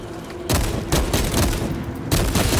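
Enemy gunfire in the video game Space Marine 2, loud repeated bursts of shots and booms arriving in three or four heavy volleys, close and dense, with no talk.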